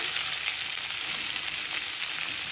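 Chopped onions hiss and sizzle steadily in hot oil for an egg brinjal varta, a bright, continuous frying crackle close to the pan with no talking.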